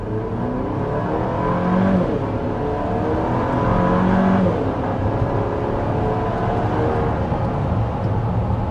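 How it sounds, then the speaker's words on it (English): A 2025 Chevy SUV accelerates from a complete stop going downhill, its engine a steady, loud drone whose pitch climbs, drops and climbs again through gear shifts, heard continuously from inside. "that was an acceleration from a complete stop, going a bit downhill"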